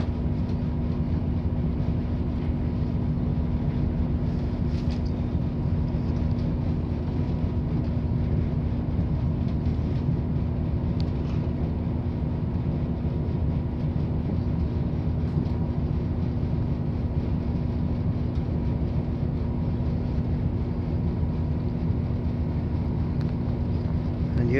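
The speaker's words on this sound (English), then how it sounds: "Here we are, arriving at Bridgend railway station." Train pulling into Bridgend railway station, heard from on board: a steady, loud rumble with a constant low hum and faint rattles running throughout.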